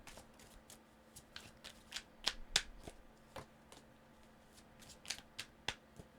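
Tarot cards are shuffled by hand in a quiet room, with a series of soft riffling slaps and sharper card snaps spread irregularly across several seconds, close and moderately faint.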